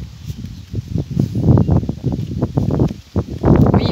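Outdoor wind gusts buffet the microphone during a tarot card reading, with rustling and scattering cards in loud, irregular bursts across the whole stretch and no talk.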